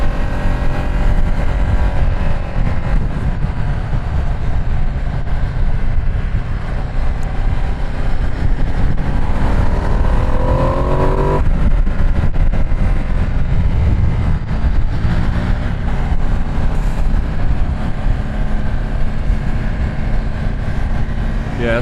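Ducati Streetfighter V2 S motorcycle riding on an open road, its engine droning loudly and continuously with rising and falling pitch as it changes speed, wrapped in heavy wind rush.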